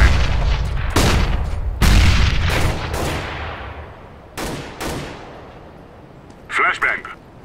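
Several sharp bangs and pops from flashbang grenades thrown and exploding in the video game CS:GO, loud bursts spaced irregularly with echoing tails, followed by a smaller clatter near the end.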